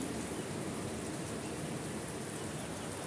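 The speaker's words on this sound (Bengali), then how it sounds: "দেখেন কত ভালো লাগতেছে, গাছগুলা কি রকম নীরবে বৃষ্টিতে ভিজতেছে" Steady rain soaking trees, falling as an even, soft hiss of drops that stays constant throughout, with no voices.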